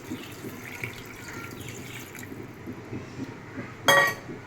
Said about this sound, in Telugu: ఇప్పుడు వాటర్ పోసేసుకుందాం.